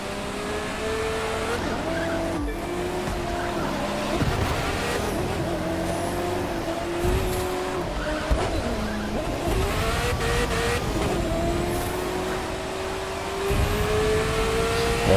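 A car in The Crew 2 drives and corners with a steady engine drone whose pitch slowly rises and falls, and tire noise accompanies the turns throughout.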